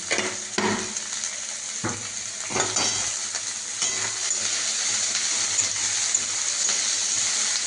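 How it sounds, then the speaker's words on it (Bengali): Sugar being stirred into a hot pan while making a meat curry, with steady frying sizzle and a few scraping strokes of a utensil against the pan near the start, continuous and close. "চিনিটা এখন দিয়ে নাড়বো"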